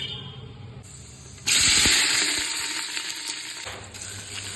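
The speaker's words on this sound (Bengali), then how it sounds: "এইদিকে মাংসটা বসাবো তেল দিচ্ছি" Oil poured into a hot pan before mutton goes in: a quiet start, then a sudden loud sizzle and hiss that bursts up and slowly settles into steady frying sputter, close by.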